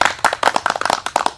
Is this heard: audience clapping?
yes